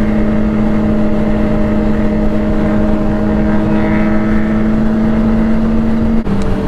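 Motorcycles ride together in a group, heard from one of the bikes as a loud, steady engine drone with strong wind rumble and a constant engine tone that drops abruptly near the end.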